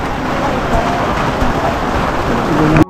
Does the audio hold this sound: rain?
yes